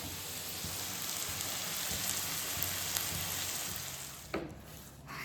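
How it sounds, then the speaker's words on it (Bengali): Onions frying in a pan on a home stove give a soft, steady hiss and crackle, fairly close, with a brief clatter near the end and no talking. "পেঁয়াজ ভাজা হচ্ছে"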